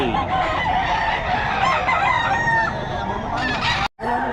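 Chickens for sale at a Bocaue market crow and cluck over a dense, noisy crowd, with continuous overlapping bird calls that break off briefly near the end.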